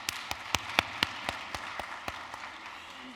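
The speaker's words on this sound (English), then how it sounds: "can we give him another round of applause" Sparse audience applause at an honors college induction and recognition ceremony: a handful of distinct, spaced claps ringing in a large room, fairly soft and thinning out toward the end.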